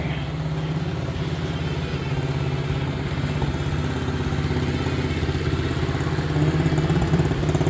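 A small pit bike engine idles steadily, making a low, even rumble with a faint mechanical clatter. The engine is close and keeps a constant note from start to finish.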